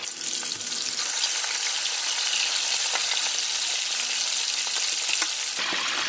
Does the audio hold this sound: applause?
no